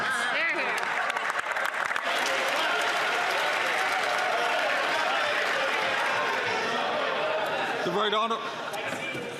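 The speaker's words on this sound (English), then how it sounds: "he's concerned that we're clapping for him" Members of Canada's House of Commons clap during Question Period, a broad, continuous patter of hands filling the chamber, with a voice speaking faintly beneath the applause.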